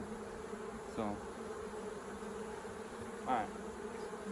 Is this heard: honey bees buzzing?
yes